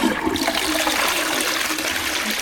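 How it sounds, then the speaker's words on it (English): A toilet flushes with a Duck Fresh Boost Marine Wave foaming rim block hung in the bowl: a steady, loud rush of water that runs unbroken for the whole stretch, with no voices. "It stays here, so let's flush."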